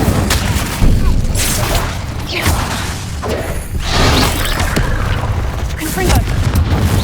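The Incendio fire spell from Hogwarts Legacy is cast repeatedly in combat. It gives loud, rumbling booms and bursts of crackling, whooshing flame, dense and continuous throughout.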